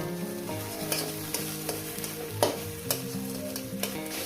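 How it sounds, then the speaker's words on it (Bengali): Pieces of masala omelette sizzle steadily in a hot pan, with a spatula clinking and scraping at regular intervals. "এটাকে টুকরো করে ভেজে নেব"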